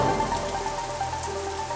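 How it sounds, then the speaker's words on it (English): Wind-driven rain pummels southern England in a World War II D-Day documentary scene: a steady, dense hiss of rain with no break, heard alone without talk. "wind and rain are pummeling southern England"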